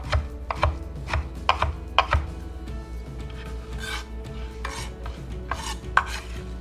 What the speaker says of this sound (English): we're just gonna roughly chop it like this way again